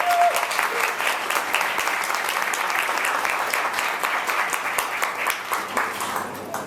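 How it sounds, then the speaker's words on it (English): An audience at a mayor's address gives sustained applause, a dense, even wash of clapping from a crowd that runs throughout. "So why don't you give yourselves a hand, because you make us all proud."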